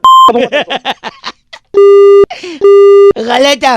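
A telephone busy tone sounds right after a prank call on a radio show is cut off. Two long, loud, steady beeps separated by brief gaps, preceded and surrounded by rapid talk from a man.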